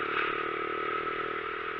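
A motorcycle climbs a mountain road toward a waterfall, its engine droning steadily and close with a continuous clattering mechanical hum and no voices.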